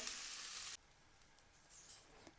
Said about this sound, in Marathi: आता आपण पाव भाजून घेऊया तर इथे मी फक्त बटर घालणार आहे